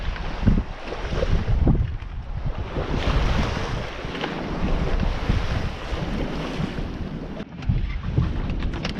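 Wind buffets and waves wash at an exposed anchorage on the Amalfi coast during a sailing trip, rumbling gusts and surging water with microphone wind noise throughout and no speech.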